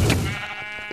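A sheep in the Minecraft video game gives a single short, nasal bleat, close and loud, fading quickly into a quieter tail.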